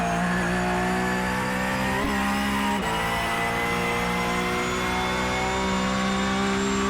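A Porsche Cup car at VIR pulls hard in second, then upshifts into third, its loud in-car engine howl climbing in pitch, with brief dips at the shift points.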